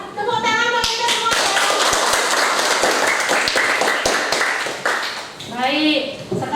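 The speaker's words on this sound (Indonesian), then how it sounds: "Tepuk tangan buat kita semua." Classroom students clap together in a burst of applause, sharp hand claps ringing out over a few seconds, with voices and chatter mixed in before and after.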